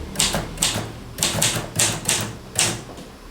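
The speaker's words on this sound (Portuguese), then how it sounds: "tem muito tempo que eu não pego numa máquina de escrever, eu tô até emocionada" A manual typewriter clacks in a quiet room, about eight crisp, evenly spaced keystrokes striking close and alone, with no talking.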